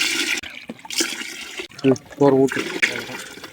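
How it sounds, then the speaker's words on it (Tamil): Water gushes and splashes into a pot in several bursts while cooking biryani in a village, with a person talking over the pouring. "4 சொம்பு தண்ணி ஊற்றிக்கிடலாம்."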